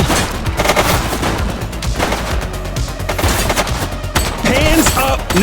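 Dense, loud bursts of gunfire in the video game The Precinct, as a police shootout unfolds: rapid overlapping shots and heavy reports crackle continuously for several seconds.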